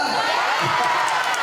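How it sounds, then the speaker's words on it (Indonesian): A crowd of women claps and cheers with whoops at an outdoor political campaign event in Indonesia, a loud continuous burst of excited voices throughout, with a speaker's voice in the mix. "Tepuk tangan dulu ibu-ibu gratis."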